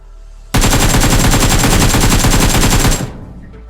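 Sustained automatic gunfire in the mobile battle royale game BGMI (PUBG Mobile), a loud, rapid continuous burst lasting about two and a half seconds, then cutting off abruptly.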